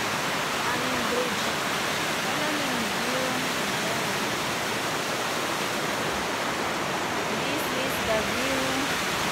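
Steady rushing water of a river in Bovec, Slovenia flows continuously, broadband and fairly loud, running beneath a bridge, with faint voices and bird-like chirps above it.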